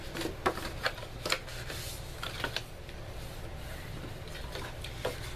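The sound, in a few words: bone folder folding scored cardstock along score lines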